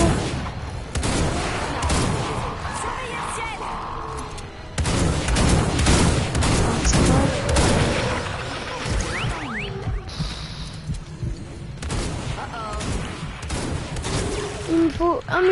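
Zombie-shooting video game gunfire, bursts of shots crackling in clusters throughout with booming impacts, fairly loud, with occasional game sounds in between.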